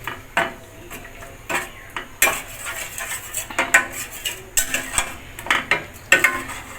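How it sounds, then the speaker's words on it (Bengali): A spoon scrapes and clinks steadily against a pan as sour yogurt is stirred into katla fish kalia curry, the stove switched off, with repeated metallic taps and scrapes up close and no voices. "টক দইটা ভালো করে মিশিয়ে তারপরে আমি চুলাটা অন করব।"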